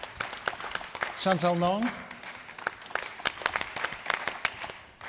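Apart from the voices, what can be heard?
audience applause for panel speakers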